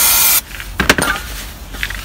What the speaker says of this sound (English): Give it a little spray with some brake cleaner